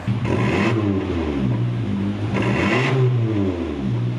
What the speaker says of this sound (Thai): มีสวิตช์ปิดเปิดได้ 2 เสียง ได้ 2 เสียงครับครับ มีเสียงแบบท่อตรงลั่น ๆกับแบบธรรมดาขับเข้าบ้าน